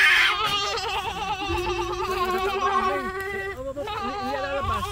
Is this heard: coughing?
no